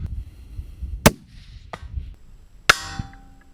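Two sharp rifle shots on a long-range shooting range, the second followed by a ringing metallic impact tail, each crack loud and abrupt over faint outdoor background.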